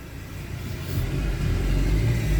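A Citroen C4 engine rumbles low and revs up, its roar growing louder and holding high toward the end, with no talking.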